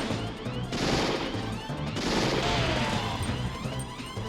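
Rapid gunfire from a weapon in the video game Covert Ops Nuclear Dawn, dense bursts of shots with crashing impacts filling the whole stretch, loud and continuous with no talk.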